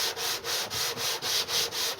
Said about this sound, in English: As I'm going back and forth, I'm also going side to side, so I'm not staying right on the same spots on the sandpaper